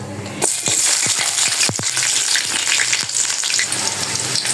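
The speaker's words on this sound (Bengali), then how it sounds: "তেজপাতা দিয়ে পেঁয়াজগুলো এখন ভেজে নিতেছি" Onions and two bay leaves sizzle loudly in hot oil, with a burst of crackling as they hit the pan, then a steady frying hiss punctuated by stirring clatter.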